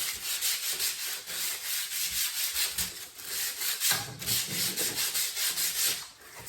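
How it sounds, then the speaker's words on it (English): Sandpaper rubs over balsa fins for an Estes Crossfire ISX model rocket in quick, rhythmic back-and-forth strokes, a close, steady scratchy hiss with no talking. "I'm just going to take the sandpaper, rub it lightly over."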